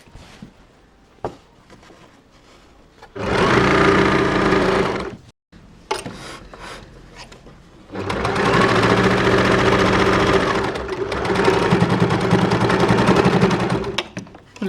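A sewing machine stitches around the edge of fabric that has been folded twice, running in two long, loud, rapid bursts separated by a pause with a few short starts and stops.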